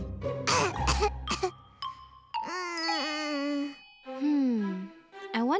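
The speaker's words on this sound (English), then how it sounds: "Does it hurt anywhere else? When I cough." A cartoon child gives a short cluster of close, rough coughs, then speaks, with brief chime-like tones nearby.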